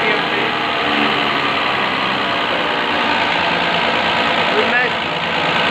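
A diesel injection pump from an Ashok Leyland BS3 engine turning at 500 RPM on a calibration test bench, with a steady, loud mechanical hum and rattle that runs throughout while someone talks over it.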